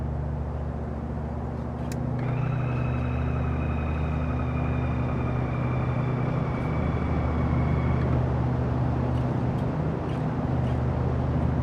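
A steady aircraft engine drones at a low, even pitch during landing in the Microsoft Flight video game. A brief whine rises over it early on, and the engine stays loud and constant with no speech.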